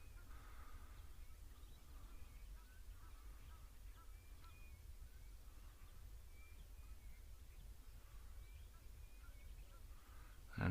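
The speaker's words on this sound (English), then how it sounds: "the Egyptian geese continuously reminding us that they're there." Egyptian geese honk and call intermittently at a distance over a steady low outdoor rumble, with no voices present.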